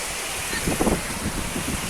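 Fast-flowing floodwater rushes through a village in a steady, loud roar, with wind buffeting the microphone and a few brief splashy swells.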